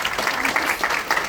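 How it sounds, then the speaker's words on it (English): Dense applause from an audience at a campus orientation event, with steady rapid clapping that rolls in slight waves, fairly close and continuous for a brief stretch. "Can we have a huge round of applause for Lalitya"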